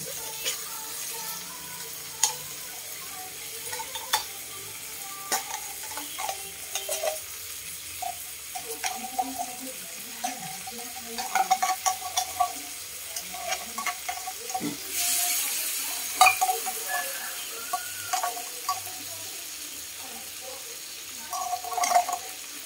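Corned beef frying and stirred in a home-cooking pan, a low steady sizzle with scattered scrapes and clinks of the utensil, a louder burst of hiss partway through, with no talk over it.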